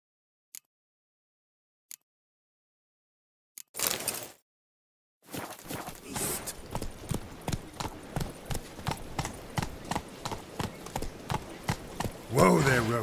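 Roach the horse trots on hooves in Witcher 3, a run of sharp, evenly spaced clip-clops close by, preceded by a few isolated clicks and a short burst of sound, with a brief voice near the end.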